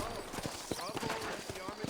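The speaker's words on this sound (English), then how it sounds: "You ain't gonna find sturdier horses than these in all of New Albany." Horses clip-clopping in the Western video game Red Dead Redemption, quiet repeated hoof knocks in an uneven rhythm beneath ongoing talk and game ambience.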